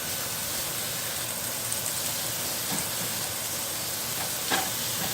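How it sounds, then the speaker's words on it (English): Hamburger meat fries with dry taco seasoning in a pan, a steady close sizzle with occasional soft stirring scrapes and no one talking. "I have the taco mix seasoning going here. Doing my hamburger."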